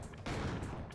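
Gunshots fired at yellow-shirted enemies in the game Killer7, a short loud burst of blasts right up close that fills the moment with dense noise.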